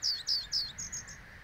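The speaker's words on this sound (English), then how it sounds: "So here I know the sound of the reed bunting" Reed bunting singing outdoors: a short phrase of several bright, descending chirps in quick succession, the last notes softer, clear above a quiet background.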